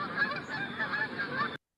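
Canada geese honk in flight, several brief nasal calls overlapping in a quick flock chorus, fairly close and clear for under two seconds before cutting off.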